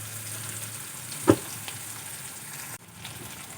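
Onion and 4-5 green chillies frying in a pan, with a soft, even sizzle and one brief knock of a utensil partway through.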